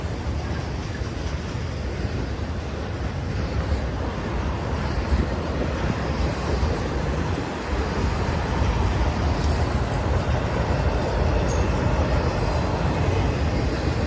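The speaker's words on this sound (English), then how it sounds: "Train 1 of the video." Norfolk Southern intermodal freight train passing with many trailers, a steady broadband rumble and rolling wheel roar holding at a constant level throughout, with no horn and no voices.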